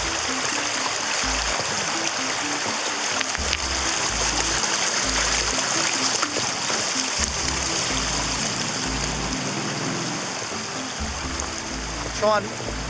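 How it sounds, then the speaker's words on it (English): A creek in the Sulawesi bush rushes steadily as someone wades across on foot at night, a constant close babble of flowing water with a few brief splashes near the end. "Just crossing a bit of a creek at the moment."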